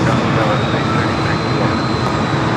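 An airplane takes off from runway 27 at San Diego airport, a loud, constant engine roar that fills the whole stretch without letting up.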